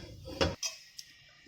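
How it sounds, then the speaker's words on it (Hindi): Iron kitchen utensils wiped dry and set down after washing, giving a few faint, brief metallic clinks and knocks close by in a quiet room. "और अब मैं इसे यहाँ पोंछ के रख दूँगी ताकि इसमें कोई जंग ना लगे।"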